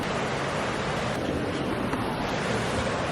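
The Colorado River in Colorado flows past as a constant, dense rushing of water, near and loud, steady throughout with no talk.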